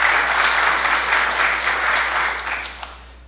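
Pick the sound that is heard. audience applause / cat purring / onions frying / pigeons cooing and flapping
audience applause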